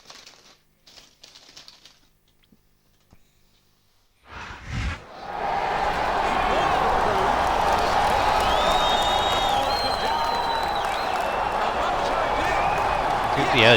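In the WWE SmackDown vs. RAW 2008 video game, a steady arena crowd roar rises suddenly after a few quiet seconds and then holds loud and constant to the end, with commentary-like voices faintly underneath.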